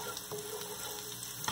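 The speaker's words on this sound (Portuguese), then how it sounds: "Vamos dar uma pequena corzinha aqui no alho, né? Não podemos deixar queimar." Garlic frying in a pan gives a steady, soft sizzle and crackle that runs evenly throughout, with nobody talking.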